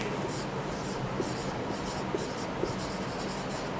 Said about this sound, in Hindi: हम लिखेंगे यहां पे